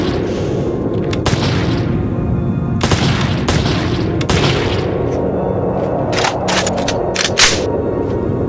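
Gunfire in the video game Heat Guardian, with repeated loud bursts and single booming shots spread across the clip, some in quick clusters, over a constant bed of game noise.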